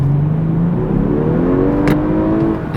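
A 2023 Audi A5 Coupe 45 TFSI quattro engine revs up hard on kickdown, its rising drone swelling as the car accelerates, heard from inside the cabin with a steady whirring undertone.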